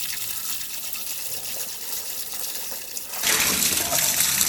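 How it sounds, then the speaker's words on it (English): Water runs into a pot of rice for rinsing, a soft, faint splash at first that swells into a louder, fuller gush of pouring water partway through. "just change the water for 2 to 3 times"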